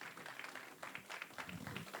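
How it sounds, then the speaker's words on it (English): An audience at a Bollywood quiz event claps in a brief, faint burst of applause, with a little murmuring mixed in. "Big round of applause for Makaran."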